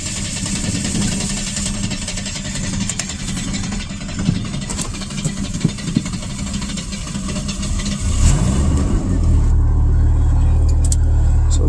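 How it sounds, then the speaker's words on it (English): A 1998 Chevy S10 with the 2.2L four-cylinder engine cranks and catches in a rough start, then settles into a steady, loud idle close to the microphone. "a little rough start, definite rough start."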